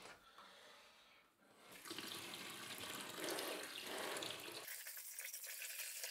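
Water poured out of a container while pool filter sand is rinsed for an aquarium, a steady loud splashing gush for several seconds that cuts off sharply near the end, leaving a quieter residual trickle.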